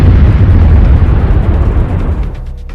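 Heavy explosions from the war in Ukraine, a loud continuous rumbling blast that fills the clip and slowly fades toward the end, with no voices.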